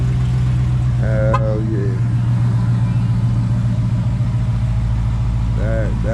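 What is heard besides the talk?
Dodge Hellcat engine started remotely from a phone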